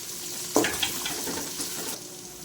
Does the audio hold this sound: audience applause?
no